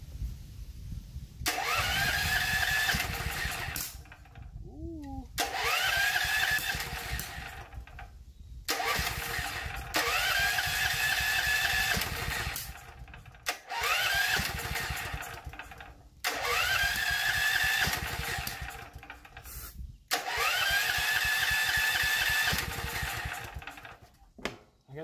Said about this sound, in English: Put on the choke. Oops. Gotta turn on the fuel.